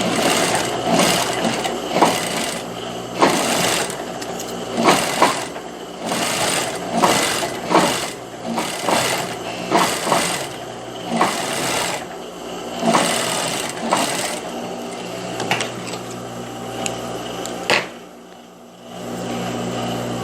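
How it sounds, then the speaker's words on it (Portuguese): A sewing machine stitches two layers of fabric together for a blouse collar, running in steady whirring bursts with brief pauses, close and loud, then stopping near the end. "agora eu vou passar uma costura prendendo aqui esses dois tecidos"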